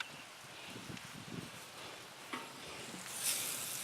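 Chicken searing on a Weber charcoal grill gives a faint, soft sizzle and crackle with a few light pops, steady and low in level.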